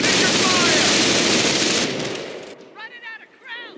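Sustained light machine gun fire in the WWII strategy game Company of Heroes, a loud rapid burst that fades after two seconds, followed by shouted voices over quieter battlefield noise.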